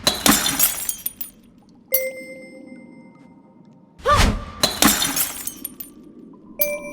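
Game effects for crystals being destroyed: loud crashes of shattering glass, crystal shards tinkling and ringing out after each break, several impacts spread across the stretch with a whooshing burst in the middle.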